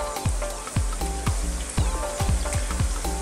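Fresh chili, lime leaves and lemongrass sizzle hard in a hot pan for a Thai fish curry, with a steady crackling hiss and repeated scraping knocks as they are stirred around, close and fairly loud with no talk.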